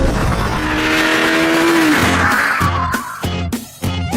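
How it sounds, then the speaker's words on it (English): A Renault Clio hot hatch with optional cup suspension is driven hard on a test track, its engine revving loud and close, tyres squealing through a corner, then rapid gear changes chop the roar into short bursts. "Time for the Clio."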